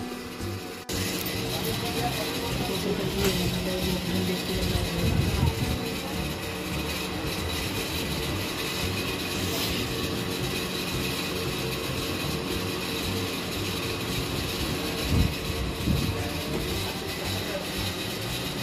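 Continuous rumbling and rattling of a moving train, steady and fairly loud with occasional clanks, heard from inside a carriage.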